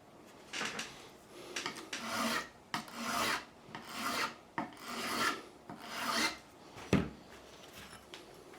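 A metal file rasps across the frets of a Squier Classic Vibe Telecaster in about a dozen steady back-and-forth strokes, close and fairly loud, with a sharper knock near the end and no talking.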